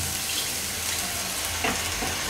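Steady loud sizzling from a hot pan of hilsa fish curry with raw banana cooking in mustard oil as water is poured in, with a brief splash partway through.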